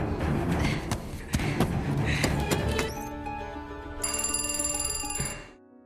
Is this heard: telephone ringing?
yes